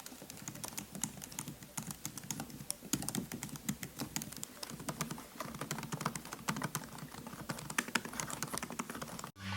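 Steady, rapid keystrokes on a laptop keyboard, light clicky taps continuing without pause, close and fairly quiet.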